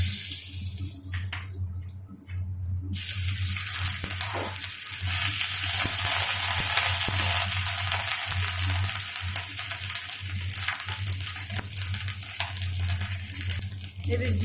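Ginger paste sizzles in a pan of oil for a fish curry made with raw mango paste. A steady hiss runs the whole time over a low hum, and a few faint clicks come through at the start.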